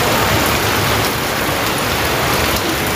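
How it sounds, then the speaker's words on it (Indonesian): Heavy rain pours down steadily around a forest hut, a dense, loud, unbroken hiss of drops that continues unchanged from start to finish. "Di sini hujan suasananya."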